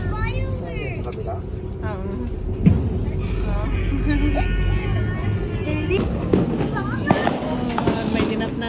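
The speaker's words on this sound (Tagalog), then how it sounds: "I see fireworks!" Fourth of July fireworks over San Francisco pop and rumble in the distance while people talk and exclaim over them.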